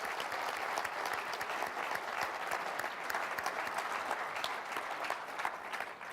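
A conference audience at a business forum applauds an arriving guest, with dense, steady clapping held for several seconds and heard at a distance, fairly faint.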